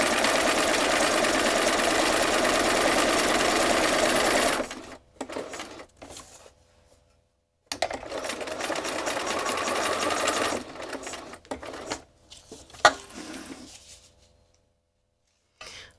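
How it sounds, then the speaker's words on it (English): A Bernina sewing machine runs steadily for several seconds, stops, then runs again in shorter bursts with pauses and a sharp click, close and fairly loud, no talking. "which is the machine I'm sewing on"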